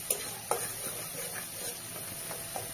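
Spices frying in hot oil give a faint, steady sizzle, broken by a few light clicks of a utensil against the pan; no talking.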